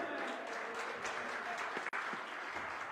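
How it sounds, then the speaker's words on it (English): Applause from a church congregation during a Sunday sermon, a steady patter of many hands clapping at moderate distance, fairly quiet throughout. "Can I get a hand clap and praise?"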